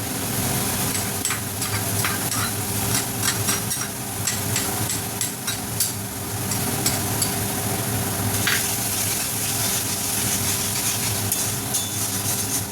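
Ginger-garlic paste frying in a pan while being stirred, a dense, steady sizzle with scattered scraping clicks from the spoon throughout, loud and close.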